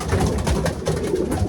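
Racing pigeons cooing in a breeding loft, several soft rolling coos overlapping in a steady murmur close by, with no talking.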